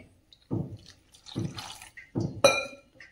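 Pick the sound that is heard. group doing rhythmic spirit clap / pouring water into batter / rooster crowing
pouring water into batter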